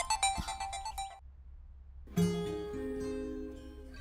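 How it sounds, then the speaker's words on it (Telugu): A phone ringtone plays loudly in a home, a bright tonal melody with sustained notes that starts suddenly after a brief pause and rings on steadily. "ఫోన్"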